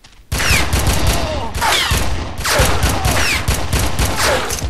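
Rapid bursts of gunfire from the Red Faction shooter game, loud and continuous, with repeated volleys and ricochet-like whines running through the whole stretch.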